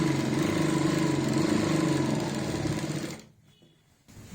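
A sewing machine stitches salwar fabric in a steady, loud, rhythmic run of needle strokes for about three seconds, then stops abruptly, leaving near silence before a faint sound at the end.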